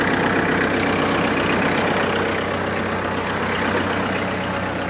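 A tractor-mounted snowblower's engine runs loudly and steadily, a dense continuous mechanical rumble with no pauses or talk.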